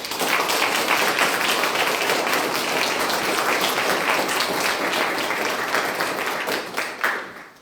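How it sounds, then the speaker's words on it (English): A large crowd claps steadily and loudly for several seconds, then the applause tapers off near the end. "Please give all these great citizens a round of applause."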